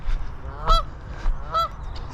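Two loud, nearby goose honks about a second apart, each a harsh nasal call, with quieter outdoor ambience between them near a pond.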